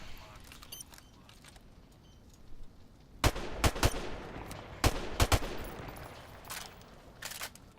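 Several sharp gunshots fire from a sniper rifle and other guns during an online tactical shooter match, spaced in bursts with quiet gaps between, as players talk over game chatter.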